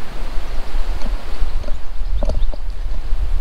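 Wind gusts across a countryside walk at Ardgillan Castle, a loud continuous blustery rush buffeting the microphone with faint rustling from trees, no voices.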